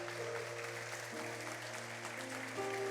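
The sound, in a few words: congregation applauding in church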